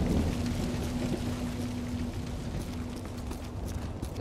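Steady rain hisses evenly throughout in the Modern Warfare 2 game, a constant moderate wash of falling water with no voices over it.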